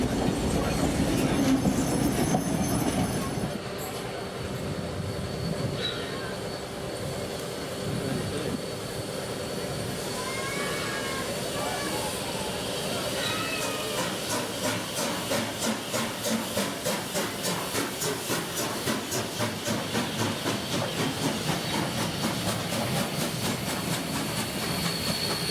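Two steam locomotives double-heading a train on a New South Wales line, heard at a distance: a broad hiss of steam and running noise, then a steady rhythmic clickety-clack of wagons rolling past.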